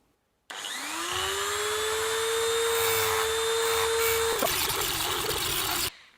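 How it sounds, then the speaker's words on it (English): A power grinder slowly cuts away the head of a tamper-proof fastener on a locked Gazelle bicycle mudguard, a loud steady whine with a rising pitch at spin-up that holds, then turns rougher before cutting off abruptly. "Slowly grinding away the head of that fastener."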